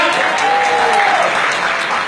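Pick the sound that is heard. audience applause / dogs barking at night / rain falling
audience applause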